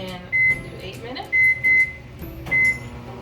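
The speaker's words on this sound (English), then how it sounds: "these cooked for 8 minutes, and I let them stay in the microwave" A microwave oven cooking corn on the cob gives four loud, sharp electronic beeps: one, then a close pair, then one more, each about a quarter-second long, over a low background hum.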